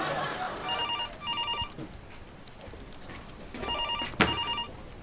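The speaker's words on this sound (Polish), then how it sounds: "twój telefon cały czas dzwoni i dzwoni" A telephone rings in two short trilling bursts, pauses, then rings again in a double burst, heard in a room with faint background noise.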